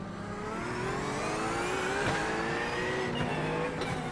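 An Acura race car engine in the iRacing sim drones steadily and loudly with a harmonic whine that climbs and dips through gear shifts, running continuously throughout.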